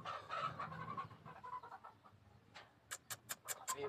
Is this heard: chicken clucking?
yes